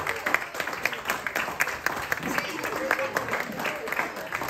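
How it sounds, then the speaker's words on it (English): Audience at a talent show clapping in a steady burst of applause with some crowd noise, moderately distant and fairly quiet. "Clap for them."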